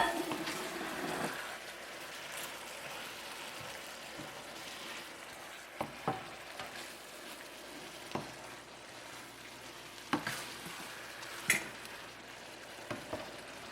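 Scallops and green onions stir-fried in a pan for Cantonese chow mein, a soft continuous sizzle broken by several sharp scrapes and clacks of a utensil against the pan.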